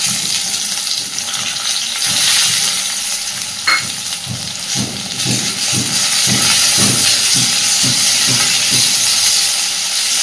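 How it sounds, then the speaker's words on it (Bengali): Chopped onion, slit green chillies and crushed garlic frying in hot oil, stirred with a spatula: a loud, continuous sizzle and hiss, with a brisk series of rhythmic scraping strokes in the second half, close up and without voices. "নাড়াচাড়া করে দিয়ে পেঁয়াজটা জাস্ট একটু নরম হওয়া পর্যন্ত ভেজে নেব"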